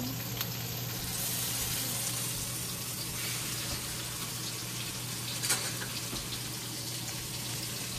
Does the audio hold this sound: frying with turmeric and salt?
yes